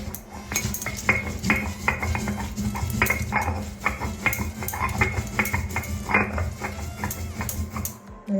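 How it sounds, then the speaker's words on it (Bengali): Soaked poppy seeds and green chillies are ground by hand on a stone slab, a continuous rhythmic scraping and knocking of stone on stone close up, with no talk. "এই যে পোস্তটা আজকে বেটে নিচ্ছি শিলনোড়ার মধ্যে"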